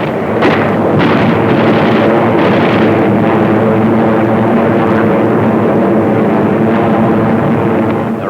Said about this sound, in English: 155mm howitzers based on nearby Bataan lay down a protective barrage of white phosphorus to screen landing operations.